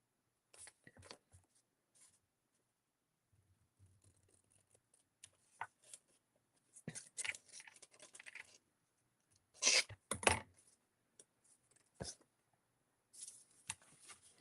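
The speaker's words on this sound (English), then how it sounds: "And then you want to snip off where you drew that line." Scissors snip through paper for paper quilting, a scattering of short crisp cuts with louder close snips bunched together near the middle, plus quiet paper handling between them.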